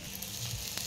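Thalipeeth flatbread with holes poked in it, laid on a hot tawa griddle, gives off a faint, steady hiss of frying with a few soft crackles, heard alone.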